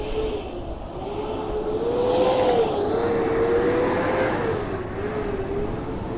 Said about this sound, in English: I'll just wait for that truck to pass.